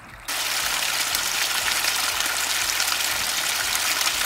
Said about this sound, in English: These are videos of the actual water flowing on the property while a photographer was there recently.